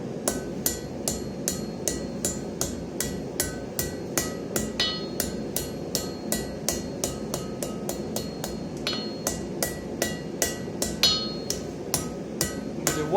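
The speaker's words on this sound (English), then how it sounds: "Kind of brush your hammer around it rather than focusing on one place" A hammer strikes hot metal being forged into a knot in a steady, rapid rhythm, dozens of sharp ringing blows close by, with a faint metallic clink on some hits.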